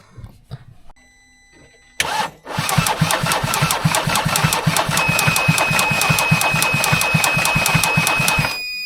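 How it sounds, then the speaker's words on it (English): A flood-damaged Mercedes C-Class C220 AMG engine cranks over after a few brief clicks, the starter turning it in a fast, steady, loud rhythm recorded right at the engine bay for several seconds. "I'm going to set the camera up on the engine and see if this thing will turn over."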